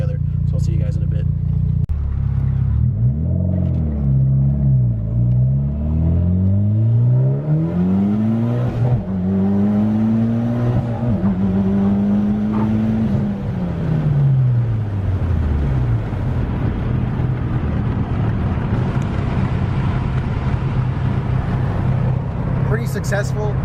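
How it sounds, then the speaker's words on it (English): A Mitsubishi Evo X on a test drive revs and shifts through several gears. The engine note climbs and drops repeatedly over a constant road and cabin rumble, and people talk inside throughout. "So we're about to go on a little test drive once we put all this stuff back together."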